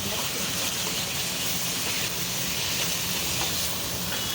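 Prawns being stirred into a masala for prawn thokku in a pan, giving a steady close sizzle and hiss with a soft scraping texture throughout, no voices.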